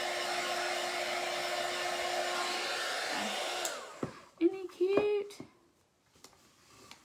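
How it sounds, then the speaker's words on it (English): Heat gun blowing hot air over hot glue strings on a snowman made from a table leg, a steady loud whooshing roar for about four seconds that cuts off, followed by a voice speaking. "I'm going to blast him with a heat gun and get rid of all the hot glue strings"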